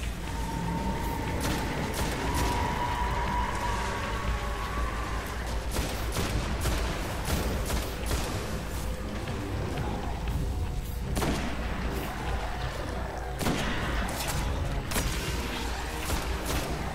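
Rapid bursts of gunfire from the shooter game Destiny crackle repeatedly across the whole stretch, dense and loud with sharp impacts and booming shots layered over continuous game ambience.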